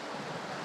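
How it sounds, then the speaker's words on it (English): Water rushes over rocks in the Kimberley bush, a broad continuous wash of surf-like noise with some wind rumble, sustained and fairly close. "Just have a look, Terry, at the water moving over those rocks there"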